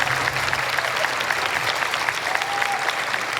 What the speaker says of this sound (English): we have our own personal cheering section down here